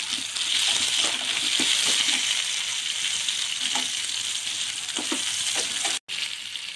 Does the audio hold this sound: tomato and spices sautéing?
yes